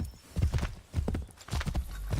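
Horse hooves galloping in Assassin's Creed 3 Remastered, a quick run of heavy clip-clop beats in uneven bursts, close and fairly loud, with a faint whinny and no talk over them.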